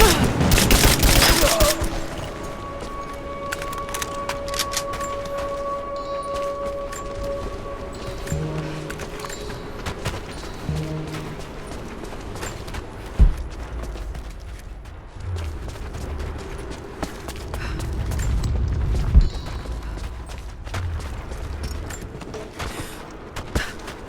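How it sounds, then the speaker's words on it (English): Gunfire and explosions in Rise of the Tomb Raider, opening with a loud close blast, then scattered shots, thuds and rumbling booms over a tense game soundscape, with a voice briefly shouting. "Taking casualties! Taking fire!"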